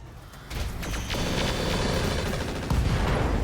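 High-explosive rounds pound away in the RogueTech mech game, a dense, continuous barrage of overlapping bursts and booms that swells louder partway through and roars without a break.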